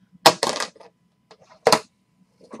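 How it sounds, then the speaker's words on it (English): Dice are rolled during a sports card break for 2021 Panini Playbook Football, giving two sharp rattling bursts on a hard surface about a second apart, close and fairly loud with quiet between. "let's roll the dice"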